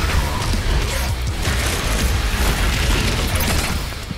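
DOOM Eternal rocket launcher firing and detonating, a steady barrage of loud booms, bursts and shattering debris rolling without pause, close and heavy.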